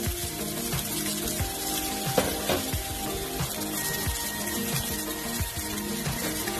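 Cajun-seasoned salmon fillets pan-frying, giving a steady, close sizzle and crackle that runs throughout, with faint music playing underneath and no voices.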